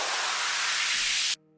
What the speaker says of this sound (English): normal uplifter